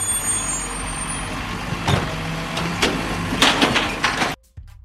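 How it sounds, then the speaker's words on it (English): A recycling truck rumbles close by, its engine punctuated by sharp air-brake hisses and clanking bursts, before the sound cuts off near the end. "Recycling truck."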